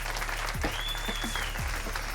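Studio audience applauding a comedian as he is introduced, a steady wash of clapping heard somewhat faintly behind other sounds.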